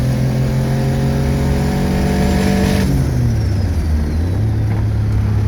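A car engine revs hard while accelerating in third gear on an open road, with the ECU connected and the engine suffering blowout, a loud steady rising drone that drops in pitch partway through and then climbs again.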